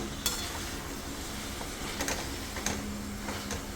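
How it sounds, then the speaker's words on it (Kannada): Shredded cabbage is stirred into fried masala in a pan for a peas and cabbage palya, with a soft continuous sizzle and occasional scraping clinks of a spoon against the metal, close but quiet. "ಕೋಸು ಹಾಕಿ ಇದೆಲ್ಲ ಮಿಕ್ಸ್ ಮಾಡ್ಕೊಳ್ಳೋಣ"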